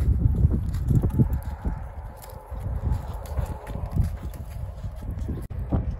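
A horse walking toward a young rider on a first ride, hooves clip-clopping in an uneven rhythm of soft close thuds over light wind.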